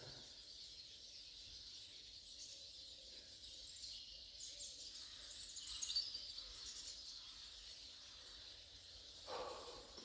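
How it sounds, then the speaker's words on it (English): Birds chirp and sing in a woodland on a February morning, a steady high chorus of calls throughout with a slightly louder burst midway, fairly distant and quiet. "Morning bird song."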